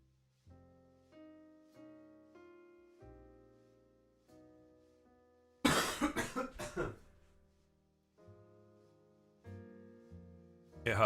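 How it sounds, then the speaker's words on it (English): A person with a sore, raw throat coughs in a harsh burst of several coughs near the microphone, set between stretches of soft melodic background music. "It hurts so much to cough."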